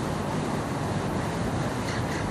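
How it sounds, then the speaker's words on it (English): Strong outdoor wind roars and buffets the microphone in a constant dense rumble, loud and unbroken for the whole stretch, during spray painting of a fender. "It's a little windy today"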